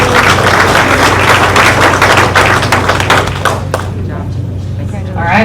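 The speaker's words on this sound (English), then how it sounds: "let's give Taylor Baseball a big round of applause" An audience at a school board meeting gives a loud round of applause for baseball players named honorable mention all-district. The clapping is dense and steady, then thins out and fades after a few seconds.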